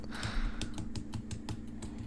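Freshly boiled eggs are tapped against a hard surface to crack their shells for peeling, giving about a dozen quick, close, crisp taps in an uneven rhythm with no talking.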